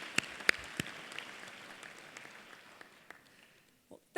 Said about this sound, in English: Please join me in another collective round of applause for our outstanding faculty